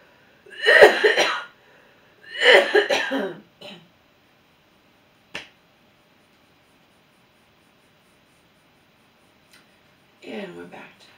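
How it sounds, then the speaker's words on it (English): A sick person coughs, with harsh, close coughs and throat clearing in two strong bursts, a shorter one after them, a single sharp cough a moment later, then another rough burst near the end after a quiet stretch. "And we're back to coughing."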